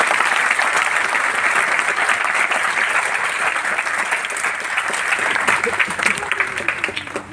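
Thunderous audience applause fills a large hall at a Vestige training event on a stage, a dense, steady roar of many hands clapping that holds loud for the whole stretch before easing slightly at the end.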